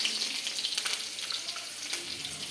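Mustard seeds frying in oil, a soft crackling sizzle with small rapid pops scattered throughout, close and fairly quiet, no talk.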